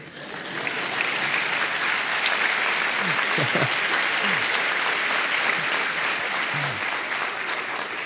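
Church congregation applauding during a Spanish-language sermon, a dense steady wash of clapping building in and holding for about eight seconds, with scattered voices and short cheers mixed in.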